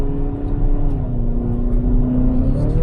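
2013 Ferrari California engine heard from inside the cabin, a loud, steady drone that rises gradually in pitch as the car pulls through automatic gear changes, with no talk over it.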